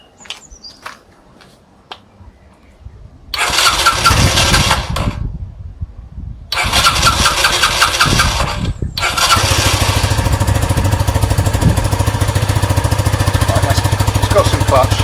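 A Sinnis SC125 motorcycle with choke on, on a cold day, sputters through two short cranking bursts with gaps between them. It then catches and settles into a loud, steady idle close by, after some clicks and handling noises.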